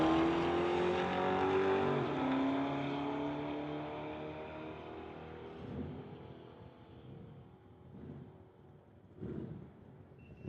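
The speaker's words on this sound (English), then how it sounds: "we've got a Cuda going against a Mustang" Plymouth Cuda and Ford Mustang on street tires in a drag race: a loud engine roar that rises in pitch, then fades as the cars pull away, with a few fainter rumbling surges afterward.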